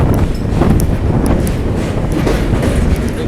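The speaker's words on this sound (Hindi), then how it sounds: "सामने पैरेलल में चल रही है जो वाराणसी सिटी से चलकर जोधपुर को जाने वाली कौन सा तो एक्सप्रेस गाड़ी है भाई साहब" An express passenger train bound from Varanasi City to Jodhpur runs on the parallel track, a loud, steady rolling rumble with faint rhythmic wheel clicks lasting throughout.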